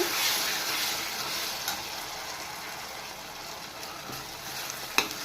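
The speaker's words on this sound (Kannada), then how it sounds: "ಈಗ ರುಬ್ಬಿರೋ ಮಸಾಲೆ ಸೇರಿಸ್ತಾಯಿದ್ದೀನಿ. ಮಸಾಲೆ ಹಸಿ ವಾಸನೆ ಹೋಗೋವರೆಗೂ ಚೆನ್ನಾಗಿ ಫ್ರೈ ಮಾಡಿದ್ರೇ ಪಲಾವ್ ಟೇಸ್ಟು." Ground mint masala paste fries in a pan for mint pulao, a steady close sizzle throughout with a few faint stirring clicks and knocks, no voices.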